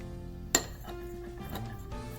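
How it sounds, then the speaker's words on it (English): A spoon stirs room-temperature milk with a little lime juice in a bowl, giving one sharp clink near the start, then a few faint taps and soft scraping, quiet and close. "add some lime juice into the milk, little bit, and then mix it"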